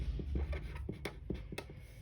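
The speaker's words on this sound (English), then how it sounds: "I'm just going to write the Husky's" Purple pen writing on paper while working a math practice problem, a quick series of soft scratchy strokes and taps, close and quiet with no talking.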